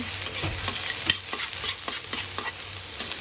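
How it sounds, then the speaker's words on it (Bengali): Onions fry in oil with green chillies, dried chillies and garlic cloves, giving a steady close sizzle under quick, repeated spatula stirs and scrapes. "পেঁয়াজগুলো তেলে নিচ্ছি লাল লাল করে"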